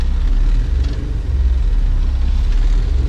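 A low, steady engine rumble from a Honda CRX with an H22 engine idles continuously at very low revs, loud and close, with no voices.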